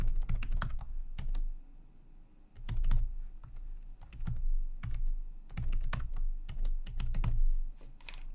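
Keys on a computer keyboard tapped in quick uneven bursts separated by short pauses, close and clear, while a new password is typed during a Raspberry Pi 5 security setup; nobody speaks.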